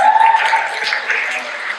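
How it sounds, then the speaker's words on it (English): Audience at a community talk on race and the prison system in Fresno breaks into brief, steady applause, a soft hiss of many hands clapping without talk. "Yeah, give that a round of applause."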